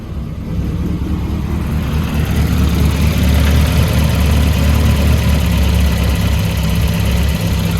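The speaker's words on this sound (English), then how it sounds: "It's on a cold start, so it's gonna idle like that." A Volvo 240 engine idles steadily after a cold start, a loud continuous low rumble with a slightly uneven vibrating throb, close by and with no talk over it.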